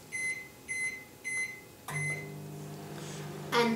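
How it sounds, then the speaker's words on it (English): A microwave oven melting soap base emits four loud, evenly spaced beeps, then a lower steady hum as it runs, with a faint rattle near the end. "Pop that in the microwave for"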